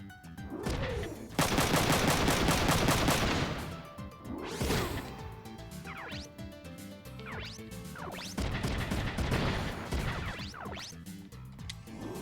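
Mech gunfire in the tactical game Front Mission 3: loud bursts of rapid automatic shots in two main volleys, mixed with metallic impacts and whooshing sweeps, with quieter gaps between the salvos.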